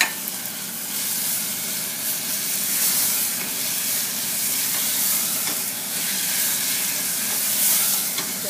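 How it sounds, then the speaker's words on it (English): Chicken mince frying with softened tomatoes in a pan, giving a strong, continuous sizzle and hiss that swells and eases slightly, with faint stirring underneath and no voices. "Just have to cook a couple of minutes till the meat changes its color."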